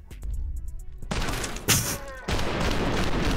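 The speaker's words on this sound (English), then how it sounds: "Damn, I missed every fucking shot." Gunfire in the shooter game Trepang2: a few sharp shots at the start, then a dense, loud burst of fusillade with booming impacts filling the rest, close and intense.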